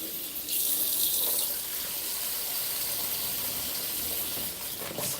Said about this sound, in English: I sponge everything down.